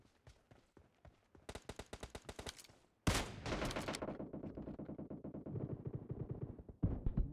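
Rapid bursts of gunfire in the PUBG Mobile battle game, with a Kar98k rifle in play: a fast volley of sharp shots, then a louder dense stretch of automatic fire with short gaps, ending in another close burst.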